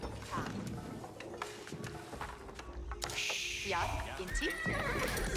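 Horses neigh and their hooves clip-clop as a horseman is trained in the Age of Empires IV strategy game. A sharp whinny sounds near the middle, amid busy game effects, all faint under the mix.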